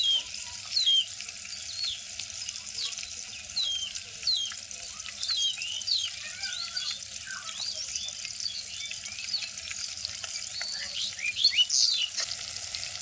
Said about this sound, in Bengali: শাকের মরিচগুলো তেলে দিয়ে দেবো, তাহলে তেলে সুন্দর ভাজা হয়ে যাবে না